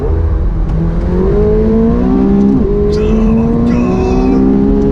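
A McLaren 720S sports car accelerates hard, its loud close engine note climbing steadily in pitch through gears with brief shift breaks, a continuous roaring whine dominating throughout.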